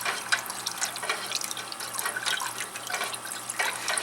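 Turpentine is stirred slowly into hot melted beeswax, making a steady run of soft liquid sloshing and dripping sounds with no voices.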